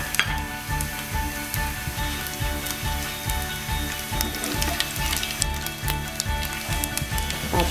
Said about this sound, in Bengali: এবার আমি 5 ফোড়ন দিয়ে দিলাম।